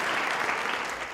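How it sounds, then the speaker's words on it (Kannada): A burst of loud, dense applause from a crowd of college girls at an outdoor game show, steady and close for about a second before tapering slightly. "ಅಲ್ಲಿ ಜೋರದ ಚಪ್ಪಾಳೆ ಬರಲಿ ಗರ್ಲ್ಸ್"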